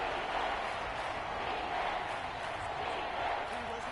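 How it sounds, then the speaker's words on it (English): Steady stadium crowd roar from a video game football match broadcast, a dense continuous wash of cheering noise filling the background with no clear breaks. "This crowd turning up the decibel level."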